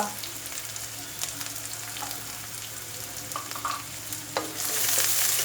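Asafoetida powder sautéing in hot oil with cumin in a pan for a potato masala: a steady close sizzle with occasional stirring clicks, swelling louder near the end.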